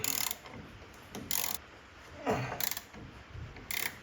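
A universal-fit ratchet wrench works a brake bolt on a barn-find 1948 Dodge Deluxe during a disc brake conversion, giving four or five loud, close bursts of rapid metallic clicking with brief pauses between them and no talk.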